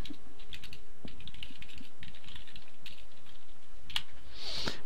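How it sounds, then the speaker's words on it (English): Close, continuous typing on a clicky computer keyboard, quick uneven keystrokes clattering alone, ending with a sharper burst of clicks. "Sorry for the clicky keyboard, folks."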